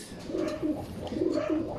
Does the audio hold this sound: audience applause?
no